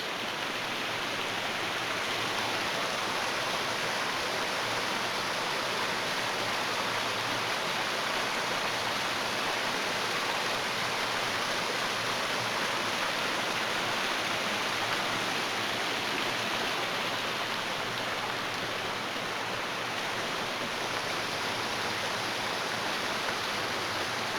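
Brook water flows near Kariong Brook Falls along the Great North Walk in bushland, a steady, dense rushing hiss that holds an even level for the whole stretch with no voices.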